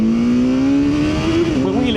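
A 2025 BMW S1000R litre naked motorcycle engine revs hard and close as it accelerates into a wheelie, its pitch climbing steadily under wind rush.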